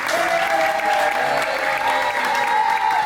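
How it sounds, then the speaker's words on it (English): Crowd applause after a tag-team professional wrestling match ends by pinfall, steady and dense, with a sustained whistle-like tone riding over it and faint voices in the mix. "Audience giving a round of applause for this match and Sapphire Reed for that win"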